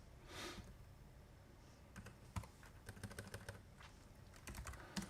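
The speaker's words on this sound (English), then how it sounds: "Gone silent while I am frantically typing off screen." Rapid, frantic typing on a computer keyboard, with dense, uneven bursts of close key clicks and occasional harder taps. There is no talk.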